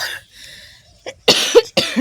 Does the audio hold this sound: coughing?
yes